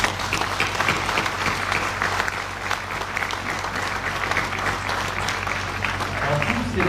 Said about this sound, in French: à l'implication de mon ami Sefadel Blerish, que je vous demande d'applaudir.